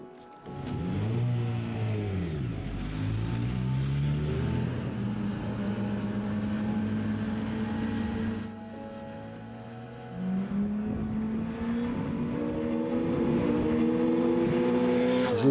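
A motorcycle on a race circuit, the engine rising and falling in pitch as it accelerates, shifts and passes. Steady revving throughout, with a brief dip around the middle before it pulls hard again.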